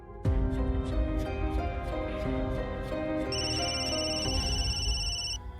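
A phone rings with a repeating electronic ringtone melody, loud and steady throughout, with a higher beeping tone joining near the end.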